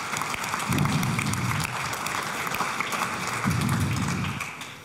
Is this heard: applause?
yes